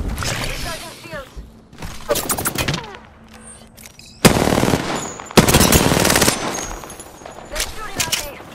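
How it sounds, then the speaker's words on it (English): Rapid bursts of automatic gunfire in a first-person shooter using the RE-45 pistol, several loud volleys with short gaps, over background game noise and a player talking. "They're shooting at me."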